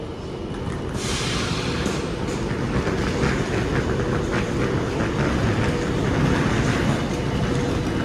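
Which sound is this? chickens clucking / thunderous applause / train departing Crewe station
train departing Crewe station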